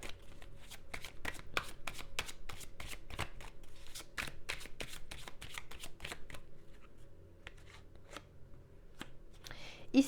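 Tarot cards are shuffled in a rapid, close riffle of crisp flicks and taps that runs steadily and then thins out toward the end, with faint speech in the background.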